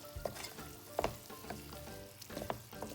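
Chicken frying in a pan with garlic and spices, stirred with a utensil: a steady sizzle under several distinct scraping and clinking knocks of the spoon against the pan, close by, with no talking.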